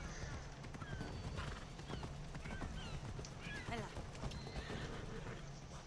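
Horse neighs and clip-clopping hooves from Assassin's Creed Odyssey run throughout with steady game ambience, and voices are present in the mix.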